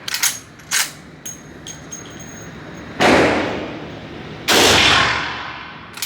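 Lever-action .357 Magnum rifle firing at an Old West shooting day, with several sharp distant cracks, then two loud close shots that ring out and decay over a few seconds.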